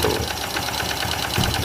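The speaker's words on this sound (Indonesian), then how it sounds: "Motornya kalau mesin jahit guys suaranya." A bored-up Honda Blade 130cc motorcycle engine runs at a steady idle, giving a fast, even, sewing-machine-like ticking chatter close to the microphone.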